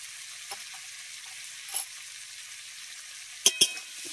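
Cubed potatoes and pointed gourd fry in oil with salt and turmeric, giving a faint, steady sizzle. A few short stirring scrapes come late, with a pair of sharper clinks near the end.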